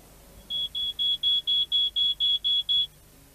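Ten short, evenly spaced high-pitched electronic beeps from a smoke alarm, loud and close, in a quiet room.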